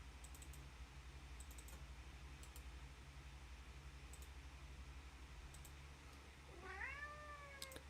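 A house cat meows twice near the end, the calls rising and then falling, close to the microphone over a steady low hum and scattered computer keyboard clicks.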